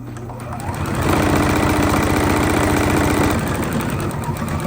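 A sewing machine stitches a simple DIY pillow, running in a steady, loud mechanical whir that builds up and holds for several seconds close by without any voices.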